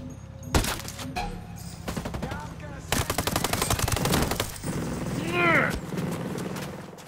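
Rapid bursts of automatic gunfire from a Ghost Recon Breakpoint gameplay session, loud sharp volleys arriving in clusters with brief gaps, over a low engine-like drone, with voices chatting underneath.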